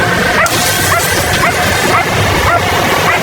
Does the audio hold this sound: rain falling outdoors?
no